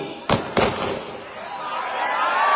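Two firecrackers burst sharply at an outdoor political rally in Aurangabad, India, about a third of a second apart. A steady, rising wash of broadband noise follows them.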